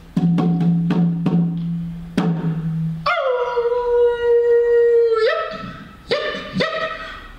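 A coyote howls loudly and close, after a run of sharp yips and barks it lets out a long sustained howl that bends downward, followed by further yips and a shorter howl.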